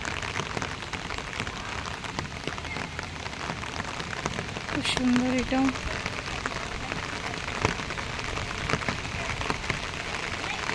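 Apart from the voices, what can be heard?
heavy rain falling on the ground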